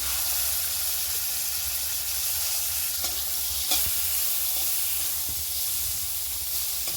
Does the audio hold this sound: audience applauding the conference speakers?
no